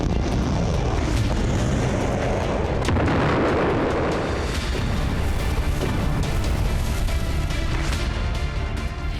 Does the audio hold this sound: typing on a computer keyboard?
no